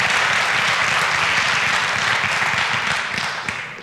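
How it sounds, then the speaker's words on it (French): An audience claps warmly for award winners at a regional business trophy ceremony, a dense, steady wash of applause that fades slightly in the final moments. "on peut encore les applaudir et les féliciter pour ce 5e trophée"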